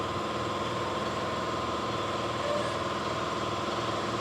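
Engine of a 1932 Ford hot rod idling, a steady, even rumble throughout, close and constant in level, with no talking.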